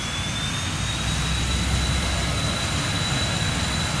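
A BAe 146 jet engine in X-Plane 11 spools up under a little added power, a loud continuous roar whose high whine climbs slowly in pitch.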